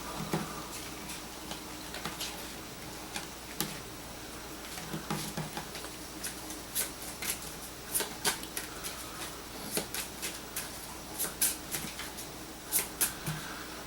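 A deck of Exploding Kittens cards is shuffled by hand, with repeated crisp riffling bursts and snaps across the span, close and fairly loud with no talking.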